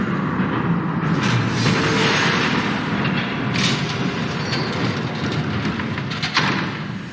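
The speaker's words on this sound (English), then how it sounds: "There's a train coming." A passing train in the Batman: The Telltale Series video game, a loud, dense rumble that holds steady throughout with occasional heavier thuds and clanks rising above it.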